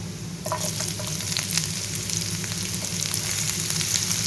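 Chopped medium onion sizzling in hot oil in a pan while samosas are prepared, a dense steady crackle with scattered sharp pops that starts abruptly as the onion goes in and keeps hissing evenly.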